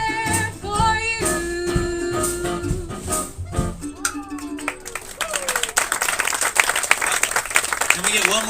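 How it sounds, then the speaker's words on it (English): Audience applause and crowd noise rise after a jazz vocalist's song at a concert, starting under the tail of the music and growing into dense, sustained clapping with voices mixed in. "Give her a round of applause."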